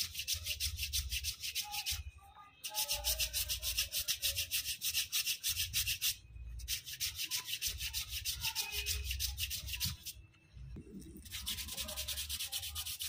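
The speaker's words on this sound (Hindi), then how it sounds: "पूरी हील की अच्छे से घिसाई करनी है।" A heel and the whole foot are rubbed firmly during heel spur massage treatment, giving loud, close, rasping friction strokes in long continuous bursts separated by a few brief pauses, with no talking.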